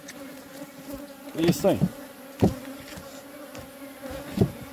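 A honeybee swarm buzzing at a Langstroth hive: a steady, close droning hum runs throughout. Someone speaks briefly over it, and a few louder handling knocks and scrapes break in.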